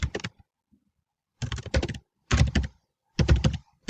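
Chart title typed on a computer keyboard, close crisp key clicks in four short rapid bursts separated by brief silences, no talking.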